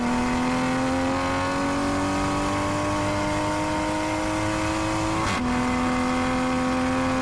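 Toyota Supra engine lapping Ridge Motorsports Park, a loud continuous in-car drone with a steady pitch that climbs, then drops sharply at a gear change and holds again.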